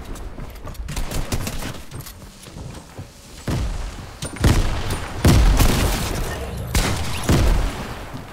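Shotgun blasts and other gunfire in Fortnite, with grenades being thrown, sharp booming shots repeated irregularly and close amid a busy battle, some louder bursts toward the end.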